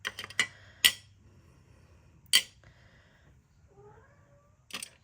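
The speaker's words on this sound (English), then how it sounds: "Oh, I hear my cat wanting in." A pet cat meowing at a door to be let in, several loud separate cries spaced irregularly, close by in a quiet room.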